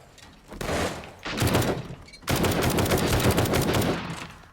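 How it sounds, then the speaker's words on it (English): Sniper rifle gunfire in 7 Days to Die aimed at a target in the sky. Loud, close shooting comes in three successive bursts, with the last one sustained for about two seconds. "Sniped it out of the sky!"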